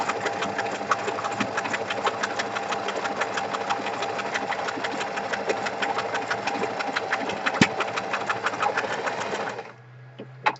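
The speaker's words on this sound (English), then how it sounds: "let's sew that down" A domestic sewing machine runs a continuous zigzag stitch across fabric, a steady rapid mechanical chatter close by that carries on alone for about nine and a half seconds before stopping.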